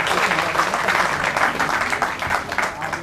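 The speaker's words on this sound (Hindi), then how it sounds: "एक बार पूरा सदन जोरदार तालियों से बधाई दीजिएगा" A packed hall audience at a Hindi poets' gathering claps loudly and continuously, a dense, steady wash of applause that carries on for several seconds with no break.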